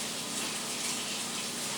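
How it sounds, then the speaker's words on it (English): Water is poured over fresh moringa leaves in a container to rinse them, a steady close rush of splashing water that runs without a break. "I'll try to pour this water again on the moringa to clean it."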